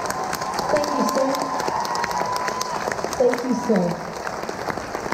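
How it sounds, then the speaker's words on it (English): A luau crowd at a Hawaii hotel applauds war veterans, steady clapping and cheering throughout with someone speaking briefly over it. "Let's give them a nice round of applause"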